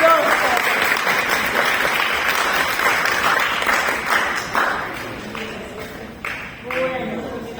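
Medical students clapping at the end of a lecture in a hall, a dense round of applause that thins and fades into scattered claps, with voices speaking through it.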